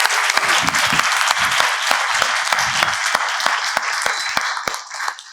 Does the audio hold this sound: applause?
yes